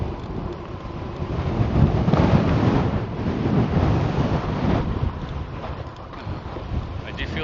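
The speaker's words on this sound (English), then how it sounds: "That wind is blowing hard." A strong headwind roars across the microphone of a 2018 Rad Power RadMini electric fat folding bike during a ride, a loud, continuous buffeting rumble that surges and eases in gusts.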